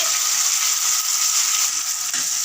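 Cumin, onion, green chilli and garlic sauté in a pan with a loud, continuous close-up sizzle and a little stirring scrape, no talking.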